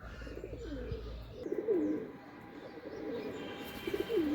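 Jalali pigeons coo in a few rising-and-falling calls, close by and fairly soft, with a low rumble of handling noise at the start.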